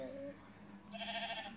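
A sheep in a farming video game gives a couple of short, nasal bleats, close and fairly quiet, with faint background game ambience and a voice speaking nearby.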